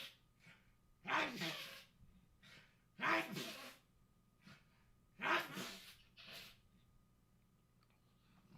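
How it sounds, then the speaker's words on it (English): A man on live radio has a sneezing fit: three loud, explosive sneezes a couple of seconds apart, each preceded by a sharp inhale, with quieter breaths and gasps between them in a quiet studio. "Welcome to a sneezing fit"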